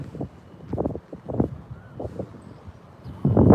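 Cold winter-morning wind buffets the microphone in irregular low gusts, a series of rough bursts that swell and fade, the last one louder and closer.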